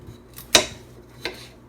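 A knife cuts through a small peeled carrot on a board, giving two sharp, separate clicks about three-quarters of a second apart.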